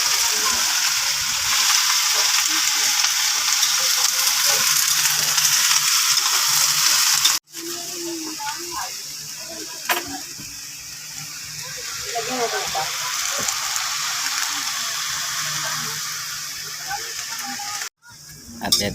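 Cabbage for adobong repolyo sizzles loudly in a pan, a dense frying hiss broken by two abrupt cutoffs and some stirring clatter, with a voice speaking in the middle portion.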